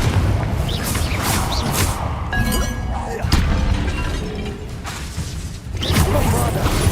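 Confringo explosive spell in Hogwarts Legacy combat, dense rumbling blasts and crackling bursts overlapping continuously with shattering impacts throughout, loud and close.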